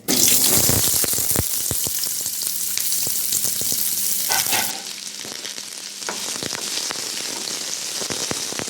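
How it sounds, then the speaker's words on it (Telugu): Cut onion sizzling in a little oil in a pan for onion karam, a loud, continuous frying hiss with scattered clicks and stirring scrapes, easing slightly halfway through but carrying on steadily. "దీంట్లో ఈ ఉల్లిపాయ ఇట్లా కట్ చేసుకొని వేయించుకుందాం"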